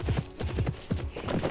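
Hooves clip-clop quickly and rhythmically as a horse gallops in the Pippa Funnell Ranch Rescue video game, a steady close run of hoof beats with no talk.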